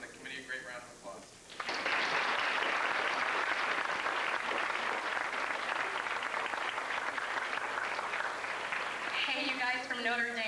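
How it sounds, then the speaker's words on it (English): A banquet crowd at the 2001 Youth Optimist Banquet breaks into a loud, sustained round of applause that fills the room, with speech before it starts and again as it tails off. "I'd like to give them and everybody else on the committee a great round of applause"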